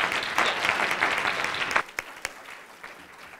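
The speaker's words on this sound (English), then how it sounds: "Can you please give them a round of applause?" A conference audience applauds presenters at a public art session in Canada; dense clapping for nearly two seconds, then a few scattered claps trailing off.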